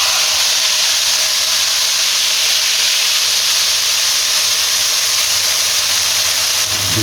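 Spices for kadhi pakora tempering sizzle loudly in hot oil with red chilli, a steady, dense hiss holding constant for the whole stretch with no pauses.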